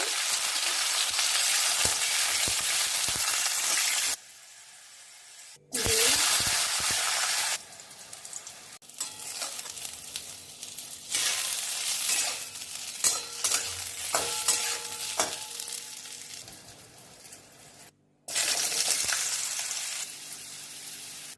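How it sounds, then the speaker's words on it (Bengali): Vegetables fry in oil for pumpkin shukto, a loud hissing sizzle that breaks off in silent gaps and returns, with stirring scrapes and clatter, and no talking. "সবজিগুলো ভেজে নেব"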